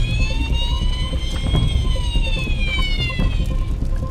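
An ambulance siren in a Fireman Sam cartoon wails as the vehicle arrives on scene, a steady rising and falling tone held loud and close for the whole stretch over busy background noise.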